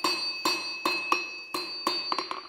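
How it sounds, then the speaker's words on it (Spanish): A blacksmith works forged hand shears for shearing sheep with a flatter hammer in a century-old forge. About eight sharp, ringing metallic strikes land at a steady pace, with the last few coming quicker, close and clear. "ahora le pasaremos la plana, porque las martilladas, tanto del martillo gordo como el pequeño, pues se notan"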